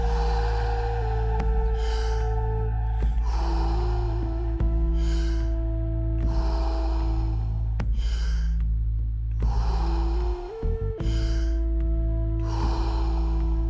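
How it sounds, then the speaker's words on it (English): Deep Wim Hof method breathing, each breath drawn fully in and let out, repeating in a steady rhythm of strong, close breaths over a constant low background hum. "Ten more. Fully in, let it go. Last 10 breaths."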